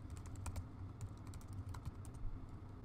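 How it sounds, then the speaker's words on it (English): Rapid keystrokes on a computer keyboard as a web address is typed into a browser, a steady run of close, crisp clicks over a low background hum. "I can type in doc.google.com and hit enter"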